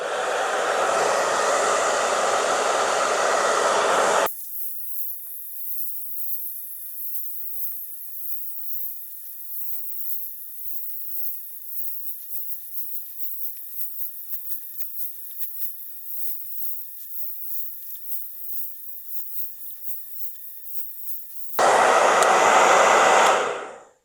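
A hair dryer on high heat roars loudly for a few seconds, drops to a thin high hiss for a long stretch, then blasts back on at full power.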